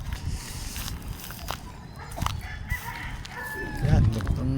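Chickens cluck and a rooster crows on a chicken farm in the morning, several close calls with scattered footsteps and some voices talking in the background.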